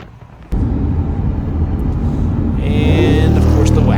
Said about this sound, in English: And of course the wagon flying by.